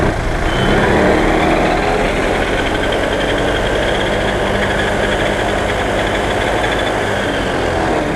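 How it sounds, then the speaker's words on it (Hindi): A started vehicle engine runs steadily while its wheel is spun for a tyre puncture repair, a loud continuous rumble with rattling vibration throughout, no talk over it. "देखिए आपके सामने हमने गाड़ी स्टार्ट करी और पहिए को घुमा के दिखाया।"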